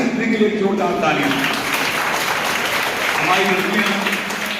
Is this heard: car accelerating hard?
no